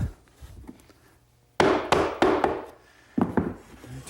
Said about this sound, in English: Now for the 1/4 inch plywood bottom. No glue here, just slides in the groove.